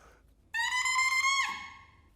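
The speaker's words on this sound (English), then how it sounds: "we make a funny squeaking sound" Bare oboe double reed blown alone between the lips, a single sustained buzzy squeak of about one second with a bright steady pitch that bends downward just before it stops, close and isolated.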